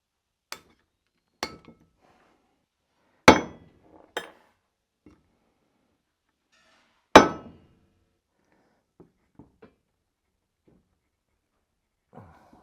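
Pliers working out a snap ring on a neglected machine, giving a handful of sharp, isolated metallic clinks and taps separated by silence, a few loud and close, others faint.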